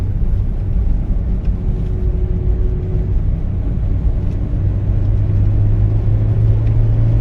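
A Toyota Matrix XRS with its 2ZZ engine pulls uphill in third gear on a mountain road, giving a steady, loud low drone and rumble that swells slightly toward the end, heard from inside the car without talking.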